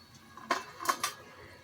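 Three crisp, hard clatters of fried rice-flour pitha dropped onto a plate, close and distinct, with short gaps between them.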